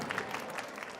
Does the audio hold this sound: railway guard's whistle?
no